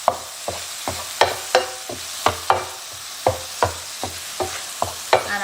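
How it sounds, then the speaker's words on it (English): Unsalted butter melting in a pan with a soft sizzle, broken by about a dozen sharp, evenly spaced knocks and scrapes of a utensil stirring against the pan, close and loud. "I'm gonna add now 2 tablespoons unsalted butter"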